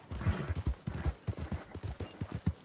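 A horse's hooves clip-clop in the video game Red Dead Redemption 2, a brisk, steady run of close, thudding beats in an even gait with no talk over them.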